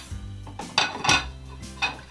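Plates and cutlery clink and rattle as they are set into a Christmas gift box for a baker, three distinct close ceramic and metal knocks over a low background hum.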